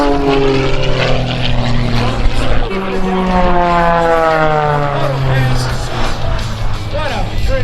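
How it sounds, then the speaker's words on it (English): A propeller airplane drones loudly overhead at an airshow, its engine pitch shifting as it passes, with people talking underneath. "What a pretty airplane."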